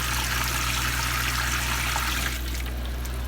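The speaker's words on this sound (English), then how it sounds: "So let's go ahead and we'll fill the sink here." Tap water pours into a newly installed kitchen sink, a steady close hiss and splash with a low hum underneath, softening slightly toward the end.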